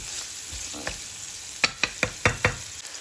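Half an onion with green and red peppers frying in a pan, a soft steady sizzle with a quick series of sharp scraping stirs near the end, close and quiet, no talking.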